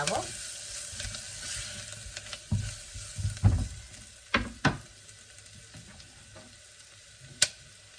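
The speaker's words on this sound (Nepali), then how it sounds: "गरम मसला सर एकचोटि चलाइदिने" Turmeric and garam masala being stirred and fried for a Nepali mutton curry, a soft sizzle under scattered spoon scrapes and a few sharp knocks against the pot.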